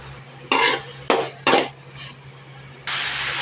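A dried anchovy mixture is stirred with a metal spoon in an oily pan. Three or four quick, loud scraping strokes come close together, then a steadier scraping sizzle follows, with no talking.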